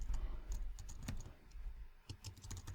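Computer keyboard keys tapped while a basic Python script is typed on a Linux shell running on a Cisco IOS device: close, quiet, irregular key clicks with short pauses between bursts.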